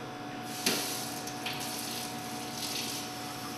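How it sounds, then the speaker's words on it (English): Warm water from a tap pours into a measuring cup in a kitchen, a steady hissing splash with a sharp clink near the start and small knocks along the way, no talking. "I'm going to add some warm water here."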